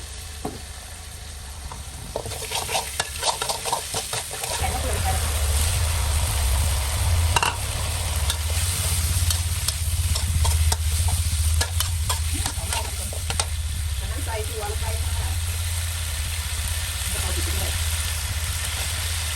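Stir-frying in a pan with about a tablespoon of oyster sauce: a loud, steady sizzle rises partway through, with scraping and clattering stirring strokes over a low hum from the burner or extractor.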